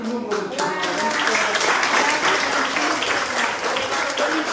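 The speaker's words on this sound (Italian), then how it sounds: "Facciamo un applauso a più lungo del giorno." Crowd at a youth excellence award ceremony in Pomigliano d'Arco applauding young schoolchildren prize winners, steady dense clapping throughout with voices and cheering mixed in.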